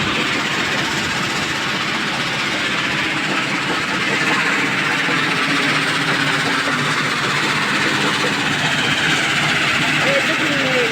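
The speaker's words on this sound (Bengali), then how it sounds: "দেখতে পাবেন রেলের শব্দের জন্য কথা বোঝা যাচ্ছে না।" A train running along a railway where workers are busy on the line, a loud continuous rumble and roar that fills the whole stretch and stays close throughout.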